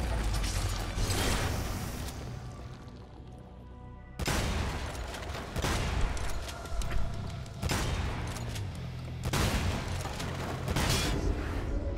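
Gunfire in Devil May Cry 5 crashes out as a string of heavy, booming shotgun blasts with long decaying tails, roughly five loud shots spread across the stretch, with no talking over them.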